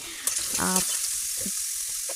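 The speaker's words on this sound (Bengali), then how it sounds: "দিয়ে দিলাম হচ্ছে পেঁয়াজ কুচি পেঁয়াজ কুচিটাকেও কিছুক্ষণ ভেজে নিতে হবে" Chopped onions sizzle and fry steadily in cooking oil in a pan for a shrimp and bottle gourd curry, a continuous close, moderately loud crackle with a brief stirring sound near the start.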